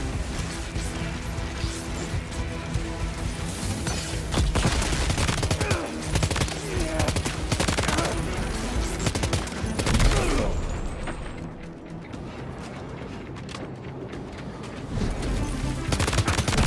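Heavy gunfire in the video game Death Stranding 2 rattles loudly and almost continuously, with bursts, crashes and impacts piling up and only a short, quieter lull.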